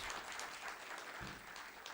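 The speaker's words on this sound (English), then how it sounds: "I would like to give this house a big round of applause" Audience applause at an Olympic research conference, a dense, steady clatter of many hands clapping, faint and distant in a large hall, filling the whole short span.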